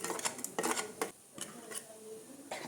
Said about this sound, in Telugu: సో ఇప్పుడు ఈ పోపు గింజలు వేసేస్తున్నా అండి